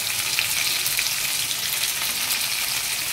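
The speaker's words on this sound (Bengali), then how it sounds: "এবার ভালো করে কষিয়ে নেব।" Turmeric and chili powder sizzle steadily in hot oil in a pan while being stirred for a vegetarian cabbage dish, a loud, continuous crackling fry with no pauses.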